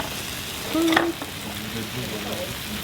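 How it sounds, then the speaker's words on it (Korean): Food sizzles and fries steadily in a pan indoors, a constant hissing crackle with a brief louder burst near the start, soft voices faintly in the background. "지글 지글."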